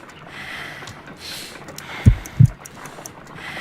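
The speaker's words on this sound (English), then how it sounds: "I need to concentrate and count the heartbeats." A heartbeat in the Sherlock Holmes: Crimes and Punishments video game, heard as one faint double thump of two low beats close together, over a quiet hum.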